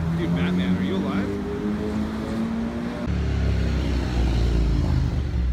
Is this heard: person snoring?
no